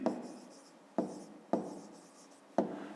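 A pen scratches numbers onto paper while a maths exercise is worked, in four separate close strokes, each starting with a sharp onset and then trailing off, with no voices over them.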